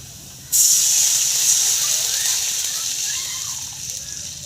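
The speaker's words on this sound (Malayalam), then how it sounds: "അതിലേക്ക് നമ്മൾ ആവശ്യത്തിനുള്ള വെള്ളം ഒഴിക്കാൻ പോവാം" Water hits a hot pan of sautéed onions with a sudden loud hiss that stays strong as a steady steamy rush, then slowly softens. No voices are heard.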